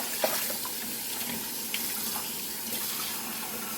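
Hot tap water runs steadily into a sink in a home kitchen, a constant broadband splashing rush with a couple of faint clinks, close by and with no talk.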